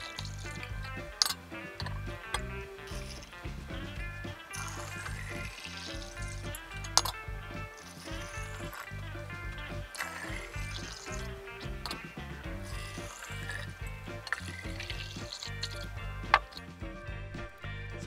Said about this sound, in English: So now you're going to add enough spring water to top up the entire jar.